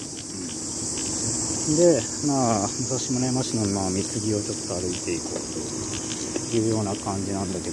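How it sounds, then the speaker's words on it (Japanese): Cicadas drone outdoors in Mitsugi, Musashimurayama, Japan, in a continuous high buzz that runs steadily beneath someone talking throughout. "まあセミの鳴き声とかが"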